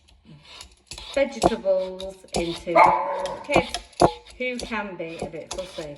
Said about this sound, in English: As you can hear, I have a dog.